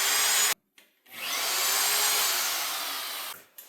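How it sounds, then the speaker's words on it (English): An electric drill with a bit boring into 3/8-inch thick steel plate: a brief burst, a pause, then a steady high whining grind lasting a few seconds, close and alone. "I'm just getting the tip of the drill started in there"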